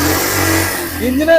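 A used Bajaj Pulsar 150 motorcycle at a bike showroom revs its engine, a steady close mid-pitched drone with a brief rise near the end, while someone talks over it.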